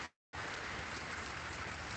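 Heavy rain pouring down on a home garden of colorful caladium plants, a dense, steady hiss that begins after a brief silent gap and continues unbroken.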